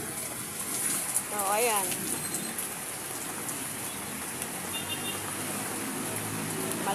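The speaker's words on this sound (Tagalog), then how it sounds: "Malakas ang ulan." Dense, steady downpour of heavy typhoon rain (Typhoon Nando) hissing continuously, with a person speaking briefly early on.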